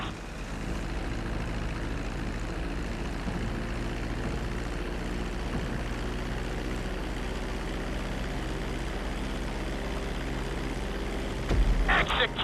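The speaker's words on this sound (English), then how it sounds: "Be sure to deploy the landing gear before you reach the runway." Airplane in Grand Theft Auto V gliding down toward a runway with landing gear deployed, a steady continuous engine rumble and drone throughout, loud and close, with a brief rougher burst near the end.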